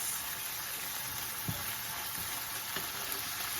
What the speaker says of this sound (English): Let this saute for a few seconds.